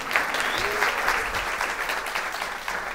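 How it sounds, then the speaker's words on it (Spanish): Audience applause for a cameraman at a talk on branding and storytelling for entrepreneurs, a continuous crowd clapping at close range, with murmuring voices mixed faintly underneath. "Aplauso para Mao, por favor."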